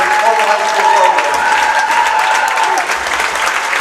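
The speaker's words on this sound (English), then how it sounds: "Let's have a round of applause for the Portland High School seniors" Loud, steady crowd applause in a high school gym at a girls' basketball game honoring the Portland High seniors, with cheering and a sustained tone running through it.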